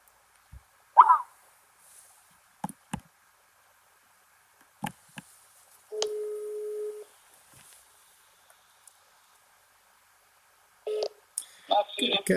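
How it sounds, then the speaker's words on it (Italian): A few phone keypad tones and a single sustained beep, separated by clicks and quiet gaps, followed by a brief voice near the end. "A questo punto lo chiamo con il cellulare."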